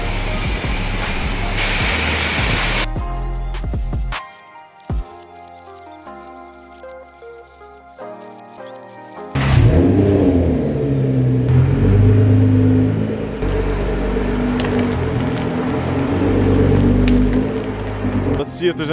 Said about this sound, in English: We're gonna pressure wash it